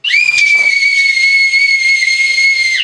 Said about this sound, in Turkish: havaya attığınızda düdüğü çalmaya hazır olayım